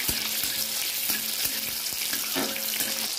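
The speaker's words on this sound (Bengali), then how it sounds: "এবার একটু ভেজে নেবো" Green chillies and chopped tomato fry in a pan with cumin and dried chilli for a Bengali vegetarian jackfruit dish, a steady close sizzle with occasional stirring taps against the pan.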